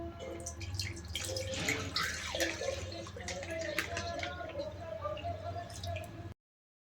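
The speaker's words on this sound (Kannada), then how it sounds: "ನೆನ್ಪು ಮಾಡ್ಕೊಂಡು ನೀರು ಹಾಕ್ಬೇಕು ಇದಕ್ಕೆ" Water poured into a mini milk cooker in a home kitchen, a close steady trickle with scattered drips that runs for several seconds, with faint voices in the background.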